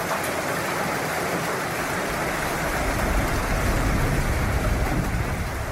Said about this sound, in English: how about some rain on a tin roof?